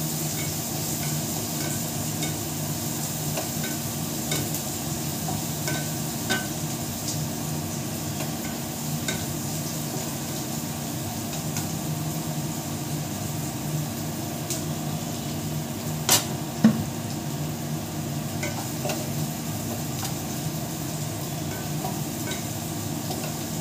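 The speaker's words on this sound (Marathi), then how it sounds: "कांदा टाकते आता मी" Chopped onion sizzling in a frying pan for kande pohe, a continuous, even frying hiss with light stirring scrapes and a couple of brief knocks near the end.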